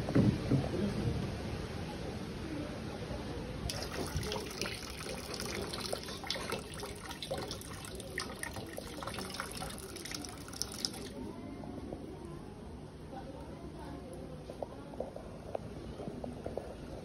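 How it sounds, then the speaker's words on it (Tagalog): Soft water trickles and drips steadily into a crayfish tank in a quiet setting, with small irregular splashes and a faint background hiss. "ilalagay natin to guys para may pumapatak pa din ng tubig sa kanila"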